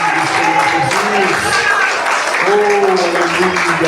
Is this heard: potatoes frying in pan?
no